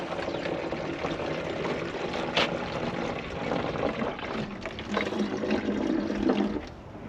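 Leftover antifreeze coolant drains out of a container into a catch basin, a steady splashing pour of liquid running continuously for several seconds, close and fairly loud.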